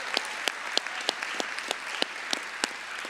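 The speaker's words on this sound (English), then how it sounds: "Let's give them a big round of applause." An audience at a graduation ceremony claps in a steady, almost rhythmic patter of sharp hand claps about three per second. The clapping sounds moderately close and fills the clip without any voices.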